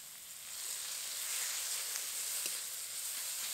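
Steady, faint sizzle and hiss of kohlrabi mash with grated coconut cooking in a wok, a continuous low frying noise with occasional small pops and no talk.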